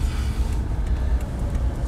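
Continuous low rumble of a car engine and road noise from inside a moving car, steady and fairly loud with no talking.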